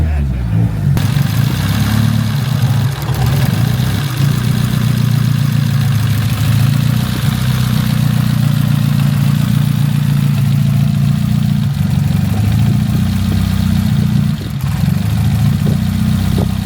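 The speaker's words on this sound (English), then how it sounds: "You need to crack the throttle body up a little bit so it'll idle." A car engine runs steadily on a standalone ECU, its low, rough idle rumbling loud and close for the whole stretch, with a slight unevenness as it hunts for a stable idle.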